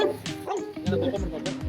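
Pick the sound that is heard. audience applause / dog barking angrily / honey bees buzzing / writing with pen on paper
dog barking angrily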